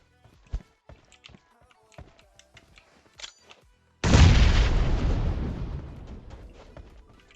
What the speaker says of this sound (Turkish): Tamam bir bomba at.